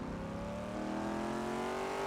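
A car engine drones steadily in a video game, its pitch climbing slowly as the car accelerates, loud and continuous with no talk over it.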